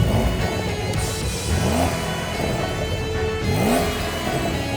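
Porsche 911 Carrera T accelerating hard in first gear in Sport Plus mode, its engine note sweeping upward in two loud, close revving pulls with a brief dip between, no talking over it.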